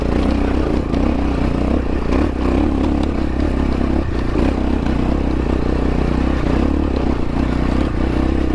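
Dirt bike engine revving steadily and loudly up close as the clutch is dropped on a canyon trail ride in Florence, Arizona, with rough clattering and scraping throughout.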